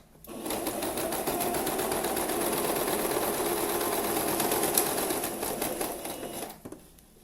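A sewing machine stitching fabric slowly around a small corner, its motor whirring with a steady needle patter close by for several seconds before slowing and stopping.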